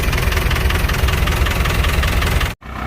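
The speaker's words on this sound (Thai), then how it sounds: "ขับมาลอง นะลองเครื่องลองเพื่องท้ายนะครับ" An Isuzu KS 110 truck engine runs at a loud, steady idle with a knocking diesel rumble, cut off abruptly for a split second near the end before resuming.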